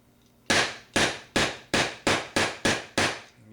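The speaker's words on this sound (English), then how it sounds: "using the plastic end of this hammer so it won't mess up anything." The plastic end of a hammer taps a punch against a pin in a Stevens 107B/94H shotgun receiver: eight crisp, steady knocks, close and fairly loud, with no talking.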